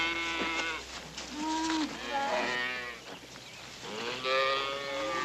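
A herd of cattle mooing, several overlapping low, drawn-out calls one after another, fairly close and continuous with no talk.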